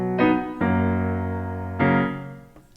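Piano chords from a pop song, three sustained chords struck in turn, each ringing and fading slowly, close and clear with no talking.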